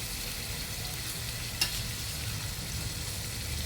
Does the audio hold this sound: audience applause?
no